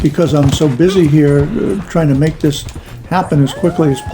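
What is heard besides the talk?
No distinct noise like a dog, phone or traffic.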